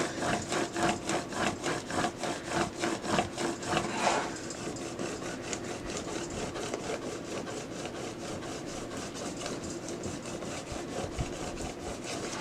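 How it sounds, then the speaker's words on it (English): Vinyl transfer tape being burnished down for a Cricut craft project, heard as a steady, close rubbing scrape that repeats in quick rhythmic strokes, stronger over the first few seconds and then continuing more evenly. "we will burnish this down"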